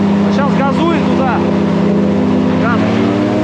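A motorboat engine revs hard on a river, a loud steady drone that climbs and falls in pitch through several throttle pushes, with water rushing beneath it.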